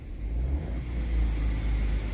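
A Hyundai HB20 1.0 turbo idles with its stainless steel exhaust diffuser closed, giving a steady low engine rumble that holds even and moderate throughout, with no talking over it.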